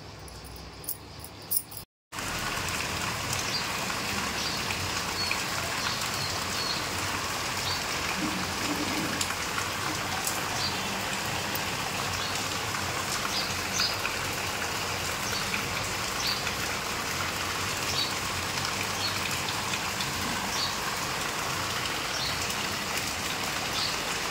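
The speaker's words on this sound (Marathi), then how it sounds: "आज आहे बाप्पाचा तिसरा दिवस आणि पाऊस लगातार चालू आहे." Steady rain falls without a break, making an even, dense patter, with faint crickets chirping underneath after a brief knock and dropout at the start.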